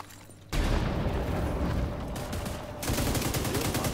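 Heavy gunfire in The Division 2, a dense, loud stream of rapid shots and impacts after a brief quiet opening, continuing without pause to the end and swelling again near the finish.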